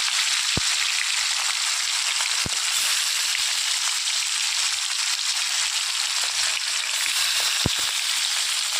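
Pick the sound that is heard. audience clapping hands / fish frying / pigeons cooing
fish frying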